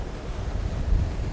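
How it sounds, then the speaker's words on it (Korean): Ocean waves wash against a rocky shore at Cape Banks, Sydney, a continuous rumbling surge mixed with buffeting wind noise, with no voices. "파도도 굉장히 지금은 좀 가라앉는 것 같은데"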